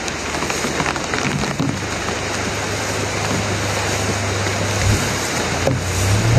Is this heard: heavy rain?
yes